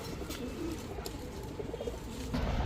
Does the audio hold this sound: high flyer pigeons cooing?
yes